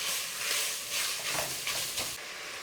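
Italian sausage sizzles steadily in a hot pan with a constant hiss, while a spatula stirs and scrapes through it in soft, repeated strokes, heard close and without voices.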